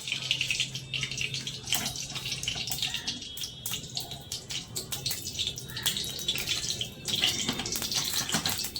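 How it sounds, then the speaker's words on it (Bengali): Oil pours into a wok set up for frying fish kachori, a steady liquid trickle and splash running throughout with light clinks on top. "এবার তেল দিয়ে দেবো।"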